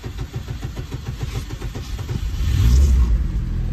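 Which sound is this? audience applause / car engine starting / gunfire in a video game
car engine starting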